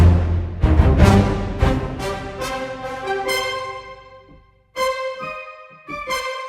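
Orchestral multi from the Metropolis Ark 3 library: taiko and percussion hits, trumpets, horns and staccatissimo high and low woodwinds with a low drum ensemble, playing loud punchy staccato chords that build, pause briefly, then return as brighter short woodwind and brass stabs.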